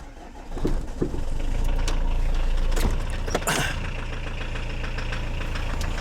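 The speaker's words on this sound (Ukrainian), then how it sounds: "Заведу машину, хай гріється" A parked car's engine idles steadily while it warms up, a low, even hum with a few sharp clanks and knocks scattered across it. No one speaks.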